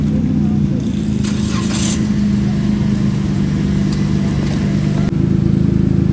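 A car pulls out of a parking spot, its engine a steady low rumble close by with faint background noise, no talking.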